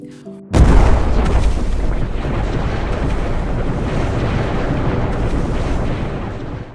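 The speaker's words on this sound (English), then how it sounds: "a nuclear bomb codenamed Smiling Buddha is detonated" Underground nuclear bomb detonation, a sudden deep boom that bursts in after a brief quiet and then rolls on as a loud, sustained rumble fading slightly toward the end.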